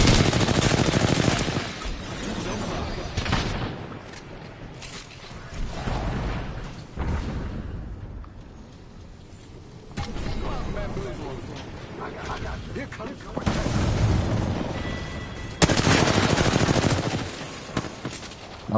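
Rapid gunfire in the shooter game Apex Legends, loud bursts of automatic fire and single shots recurring throughout, close and dense, with someone talking over parts of it.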